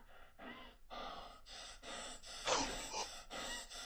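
Intruder's intense breathing in the Home Alone game, a close series of heavy, rhythmic gasping breaths, roughly eight ragged inhales and exhales in quick succession.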